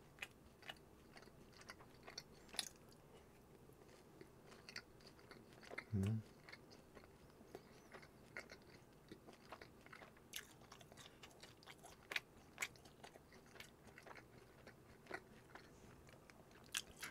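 Fried dumplings being bitten and chewed at close range during a Korean mukbang meal of jajangmyeon and sweet and sour pork, with soft crunchy bites and mouth sounds scattered through an otherwise quiet stretch.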